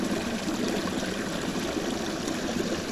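Shallow creek water runs steadily at a gold-prospecting spot where gravel was just cleared, giving a continuous close rushing and trickling wash with no voices.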